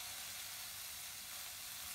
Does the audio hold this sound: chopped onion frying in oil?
yes